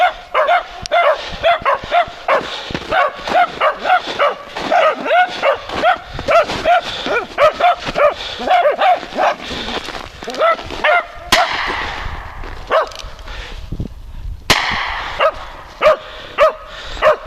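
Dogs on a fox hunt bark repeatedly in quick, excited bursts, fairly close, with a few yips mixed in and brief pauses between volleys.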